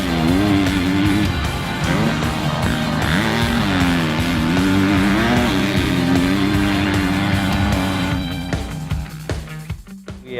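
A motorcycle fitted with a Yoshimura full exhaust and a Twin Air Power Flow intake, stock engine, roars steadily at close range with shifting engine pitch and a rougher, fading tail near the end.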